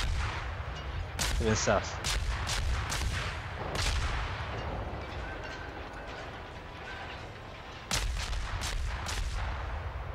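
Warship guns fire in World of Warships with a German cruiser Dresden in play: several heavy booming shots, the first spaced ones then a later cluster, over a steady low rumble while someone speaks briefly.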